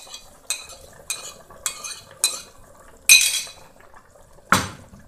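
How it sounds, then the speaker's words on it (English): Onions go into a pot of white bitter leaf soup cooked without oil: a run of sharp, close utensil clinks against the pot, then two louder clattering impacts, with no one talking. "I'm adding onions"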